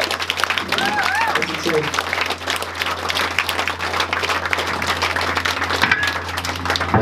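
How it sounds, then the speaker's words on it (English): A club crowd applauds and cheers at the close of a band's final set, steady dense clapping throughout with scattered whistles and a voice speaking briefly over it. "Give yourselves a round of fucking applause"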